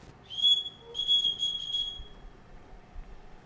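A whistle blown inside a large household to summon the staff: a short shrill blast, then a longer run of sharp trilling whistle notes, loud and close, with no talk.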